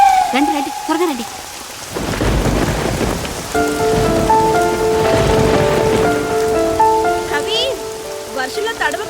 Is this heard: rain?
yes